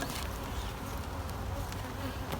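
Honey bees buzz in a Honeyflow hive. A dense, continuous, fairly faint hum stays even throughout, close by.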